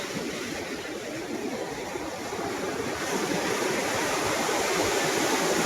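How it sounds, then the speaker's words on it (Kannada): A steady, loud rush of surf washing in continuously at a Chennai beach, a broad roar of churning water with no voices. "ಸಮುದ್ರ ನೋಡಿ, ಇಲ್ಲಿ ಒಂದು ಕಾಲ ಹತ್ರ ನೀರು ಬರುತ್ತೆ"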